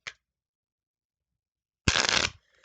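A deck of playing cards gets a single close, crisp riffle shuffle lasting about half a second after a long silence, preceded by a tiny tap at the start.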